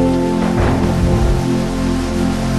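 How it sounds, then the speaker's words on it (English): Steady rain falls in a video game, a constant dense hiss that fills the whole moment over a low background hum, with no voices. "Ooh, raining!"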